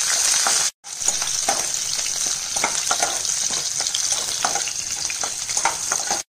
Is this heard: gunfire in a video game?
no